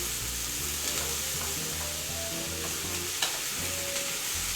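Food sizzling on an indoor grill pan, a dense, steady crackling hiss close by, with faint low rhythmic background tones and no talking.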